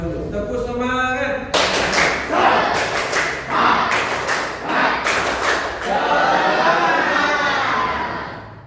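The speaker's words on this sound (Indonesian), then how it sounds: "Kita tepuk semangat terlebih dahulu." A school class does a rhythmic spirit clap in a classroom, with sharp bursts of group clapping in a steady beat broken by short pauses, and children's voices calling out between the claps.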